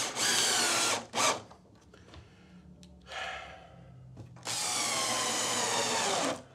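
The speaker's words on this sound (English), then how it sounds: "I can't find my impact driver, so I'm going to use the drill" A power drill drives screws into wood for a natural wood wall sculpture, loud and close, with a long whirring run, a short burst, a fainter stretch and then another sustained run. Quiet handling noises fall in the gaps between runs.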